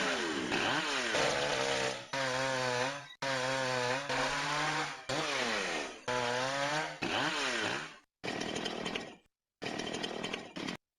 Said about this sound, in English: he asked us to develop some sort of synthesizer of chainsaws to use on his creations, and this is what we did for him.